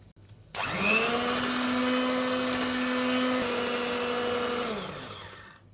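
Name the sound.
electric hand mixer whipping pudding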